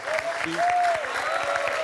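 A studio audience at a quiz show final applauds a finalist, dense steady clapping throughout, with a voice faintly over it.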